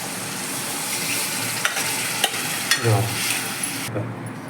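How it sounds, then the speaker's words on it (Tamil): Masala paste poured into hot oil, crackling in a steady loud sizzle with a few sharp spoon scrapes and a soft splash midway as it is stirred. "நல்லா வறுத்து எண்ணெய் பிரிஞ்சு வருது இல்லையா, இதில் இந்த மசாலாவை ஊற்றிடுவோம்"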